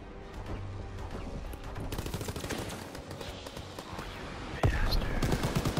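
Dense World War II battlefield gunfire in Call of Duty WWII, with continuous machine-gun bursts and rifle shots crackling throughout and a louder blast near the end, while players talk over the shooting.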